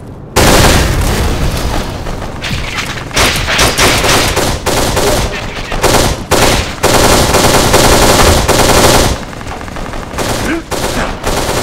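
Dense automatic gunfire and bursts of shooting from the video game Kane & Lynch 2: Dog Days in multiplayer, loud and nearly continuous with brief gaps, over booming impacts.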